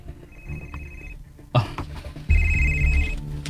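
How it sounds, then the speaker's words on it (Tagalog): A telephone rings with an incoming call, two short bursts of a bright electronic ring separated by a pause, near and clear over a low room hum. "Nanawag sa Sabrina."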